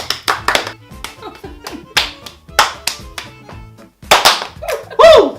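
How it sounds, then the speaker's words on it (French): A few people clap close by in uneven bursts, with sharp separate hand slaps and short pauses between them, while voices talk and laugh over and between the claps. "On les applaudit quand même."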